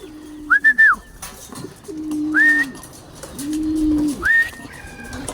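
Young racing pigeons in a loft giving low, rolling coos in three drawn-out phrases, with a higher rising note over each, close and clear, with faint shuffling between the calls.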